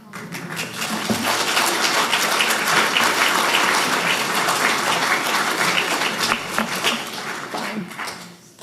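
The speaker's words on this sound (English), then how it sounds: "I didn't expect you to clap, so that threw me off" A large congregation claps loudly and steadily in a hall for about eight seconds, the dense applause building quickly and tapering at the end, with no talk over it.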